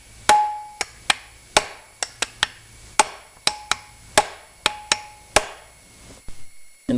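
Hammer whacks driving a core plug into an engine block: about fourteen sharp metallic strikes at an uneven, steady pace, close and loud, with short ringing tails and quiet gaps between.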